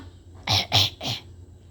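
A child gives three short, close coughs in quick succession, each a brief harsh burst, with quiet between them.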